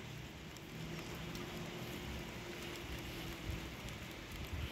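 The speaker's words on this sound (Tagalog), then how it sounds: "Ayan ang ulan oh." Heavy rain pours steadily outdoors as a dense, even hiss with scattered close drops tapping nearby surfaces, continuous and fairly loud throughout with no voices.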